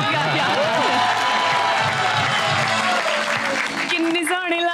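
Applause and cheering from a studio audience at a festive Eid special show, a dense sustained wash of clapping running throughout with voices mixed in, loud and fairly close.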